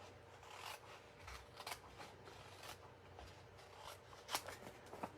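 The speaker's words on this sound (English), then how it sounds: "And give it a quick fussy cut, and you'll be ready to go." Scissors fussy cutting designer series paper for a handmade card, giving a close, quiet run of crisp snips and papery rasps, with a few sharper cuts standing out against soft rustling.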